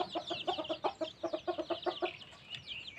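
A flock of chickens clucks nearby in a busy run of short, pulsing calls that thins out toward the end, leaving softer scattered clucks; no one talks.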